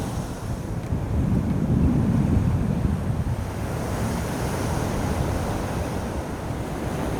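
Surf rolls steadily onto the shore at Giant's Causeway in Northern Ireland, a close, dense wash of waves with gusty wind buffeting the microphone and no talking.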